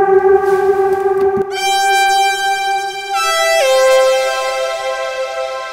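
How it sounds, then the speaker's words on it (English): Sustained electronic tones ring out through a Valhalla Shimmer reverb with feedback set to zero, with long smooth tails as the pitch shifts between notes, loud and without talk. "This is a very big reverb."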